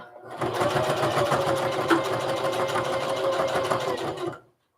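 A sewing machine stitches forward and back on a fabric lunch tote, a close, steady mechanical whirring and rapid needle chatter running for about four seconds before stopping abruptly.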